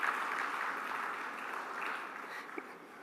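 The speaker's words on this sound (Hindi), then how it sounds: "तालियां जरूर बजनी चाहिए" Audience clapping at a corporate team event, a steady wash of many hands at moderate distance that slowly tapers off over a few seconds.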